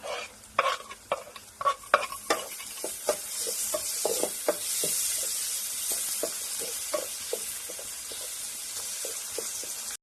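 Onions frying in a pan for chicken curry, a soft sizzle under repeated sharp stirring clicks and scrapes that thin out into a steady hiss.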